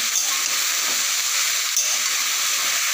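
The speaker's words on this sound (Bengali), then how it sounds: "এবার একটা খুন্তি দিয়ে একটু নেড়ে চেড়ে নেব" Water lily stems fry in oil while a spatula stirs them, giving a continuous close-up sizzle with faint scraping strokes mixed in, steady and loud throughout.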